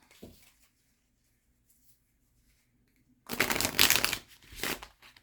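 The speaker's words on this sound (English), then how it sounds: "Let's give this deck a shuffle." Near-silence with a faint tap, then a deck of cards is riffle-shuffled close by in two quick, crisp bursts of flapping.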